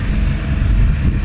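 A Nautitech Open 40 catamaran's engines run at full throttle during sea trials, a loud, steady low roar blended with wind and rushing water, close and continuous with no talk.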